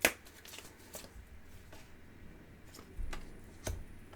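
Tarot cards being shuffled during a reading, giving a faint, soft scattered riffling with a few sharper card taps, quiet and without talk.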